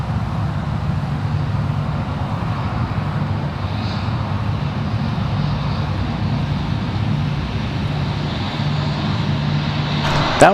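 American Airlines flight 174 Heavy departing Raleigh-Durham for London Heathrow, a steady roar of jet engines with a low droning hum, constant and fairly loud, with distant road traffic mixed in and a brief clatter at the very end.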